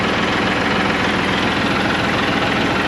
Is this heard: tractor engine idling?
yes